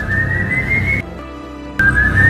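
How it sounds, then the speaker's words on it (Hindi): A creature called El Muerto gives an eerie, sustained whistle in a horror cartoon, two long rising notes split by a short pause, loud and alone over a low background rumble. "तेओ की आत्मा उसी दिन से एल मुएर्तो बन गई, एक अजीब जीव जो इंसानों का शिकार करता है और सीटी बजाते हुए अपनी मौजूदगी जाहिर करता है।"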